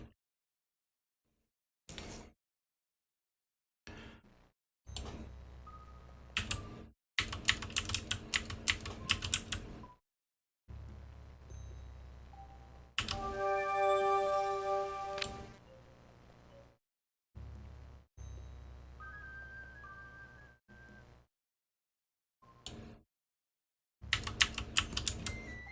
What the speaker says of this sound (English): I have a very clicky keyboard, so it makes a lot of noise on stream